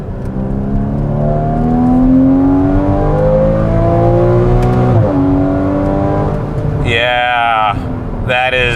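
A Porsche 981 Cayman flat-six with the factory sport exhaust on revs and downshifts, a loud, close engine note climbing in pitch with a sharp blip midway and further revs toward the end.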